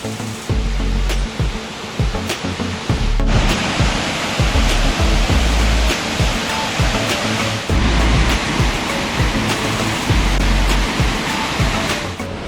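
A waterfall on a forest trail in a state park pours with a constant, loud, full-bodied roar of rushing water, steady throughout with no voices.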